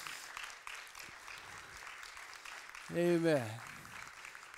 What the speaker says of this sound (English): Give him another round of applause real quick.